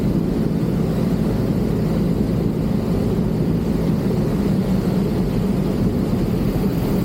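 A small airplane's engine drones steadily while flying the downwind leg of a landing pattern at Tieton State airport, a dense, low, continuous rumble without a break and with no talking.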